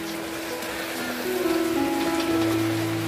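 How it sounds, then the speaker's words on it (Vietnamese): Rain falls steadily all day over outdoor guppy breeding tanks, a continuous even patter close by, with a low running hum entering partway through and no talking. "Đó, mưa cả ngày luôn bạn."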